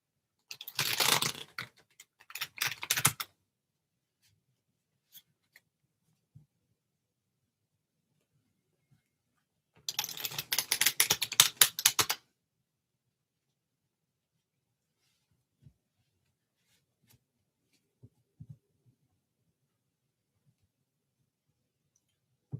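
A deck of cards is shuffled in two quick riffle bursts of a couple of seconds each, with a long pause between them. Soft, faint handling taps and clicks fill the otherwise quiet room.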